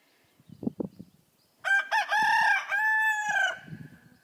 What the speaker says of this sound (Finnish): nyt Glad kiekuu kilpaa käkien kukunnan kanssa